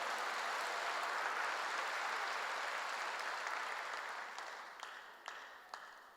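A full church congregation claps in sustained, even applause that stays loud for several seconds before tapering off, leaving a few scattered final claps.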